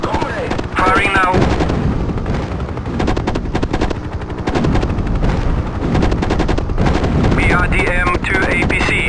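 Sustained, dense weapons fire from a Mi-24 Hind helicopter in the 1998 combat flight game Hind: rapid rattling bursts over a heavy rotor and engine roar, with occasional chirping warning tones.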